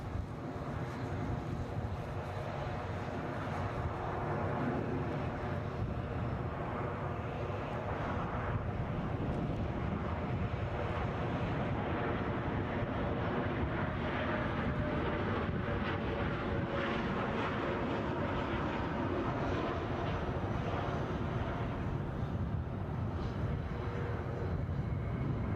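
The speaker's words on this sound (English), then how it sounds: "Les Donaldson says we've got the Loganair with the rainbow livery on its way back" A Loganair plane in rainbow livery moves at Edinburgh airport, a broad continuous engine roar holding steady for the whole stretch, mixed with wind buffeting on the microphone.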